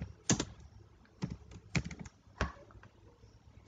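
Code is being typed on a computer keyboard in short bursts of crisp, close key clicks separated by brief pauses.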